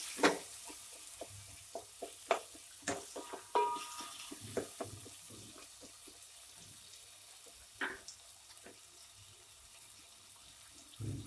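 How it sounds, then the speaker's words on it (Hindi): Cumin and coriander powder with salt are stirred in a pan for Assamese fish head curry, soft scraping strokes and faint sizzling with scattered spoon taps against the metal over quiet background hiss. "जीरा और धनिया के पाउडर, नमक डालेंगे और इसको मिक्स करेंगे"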